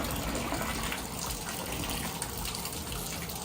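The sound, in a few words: hot water running into tub over submerged cleats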